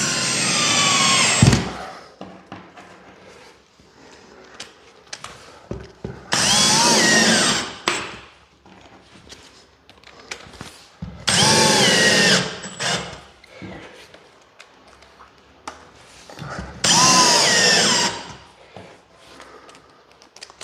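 Power drill driving screws into timber, four loud whirring bursts of roughly one to two seconds each, spaced several seconds apart, with quieter handling noise in between.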